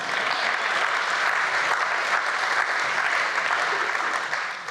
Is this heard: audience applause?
yes